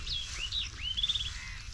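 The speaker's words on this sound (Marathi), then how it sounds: "पक्ष्यांचा चिवचिवाट आहे" Faint, brief bird chirps over a low background rumble, a few thin high notes in quick succession.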